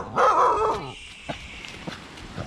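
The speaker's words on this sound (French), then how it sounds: "Et puis les chiens toujours en train de gueuler." Dogs near a house on an island let out one loud, drawn-out bark or howl, close by, followed by quieter scattered noises and faint background sounds.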